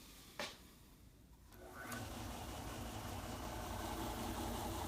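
A rebuilt late-1950s or early-1960s Craftsman lathe with a Delco motor switching on and settling into a smooth, steady running hum, fairly faint, after a brief click.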